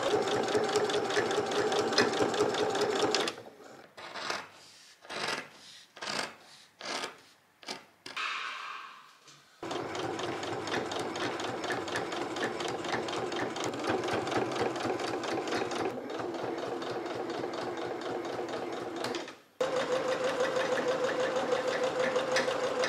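A domestic sewing machine stitches a trench coat in long steady runs of rapid close mechanical chatter, broken in the middle by several short start-stop bursts, with no voices.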